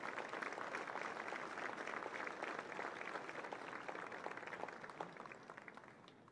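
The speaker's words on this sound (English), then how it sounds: "Mr. Watson, let's give him a round of applause." An audience applauds during a Concordia Lutheran High School graduation ceremony, even sustained clapping from a large crowd that thins gradually near the end, with no speech.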